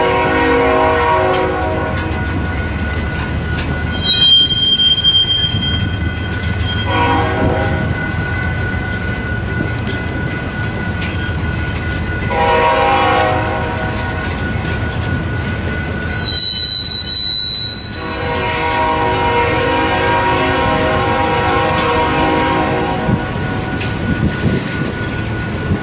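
A westbound freight manifest train of loaded auto racks slowly getting underway in Fremont, Nebraska: loud continuous rumble with drawn-out, high wheel squeals rising and fading throughout, close by.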